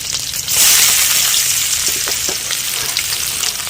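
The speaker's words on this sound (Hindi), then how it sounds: "प्याज की कर लेते हैं फ्राई" Chopped onions and green chilies fry loudly in hot oil in a pan, a dense close sizzle that surges up at the start and holds steady with faint stirring taps.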